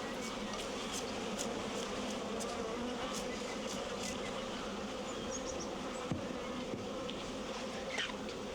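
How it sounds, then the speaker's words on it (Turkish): Bees buzzing around jars of honey at a mountain village stall, a faint, steady drone of insects flying close by with occasional louder passes. "Bu üstünde arı oturmuyor."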